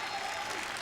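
A crowd applauds at a men's intercollegiate bowling championship, a brief, steady burst of many hands clapping, fairly distant and even throughout.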